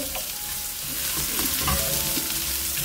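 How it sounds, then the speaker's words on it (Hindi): Bottle gourd goes into hot oil with fried cumin and is stirred, giving a loud, steady sizzle with scraping stirring strokes, close to the pan and free of speech. "अब मैं इस पॉइंट पे अपनी लौकी ऐड कर दूंगी। लौकी को थोड़ा सा हम घुमाएंगे"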